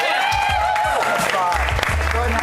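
A Saturday night showdown audience gives another short burst of clapping for a participant named Raina, with voices and music running under the applause.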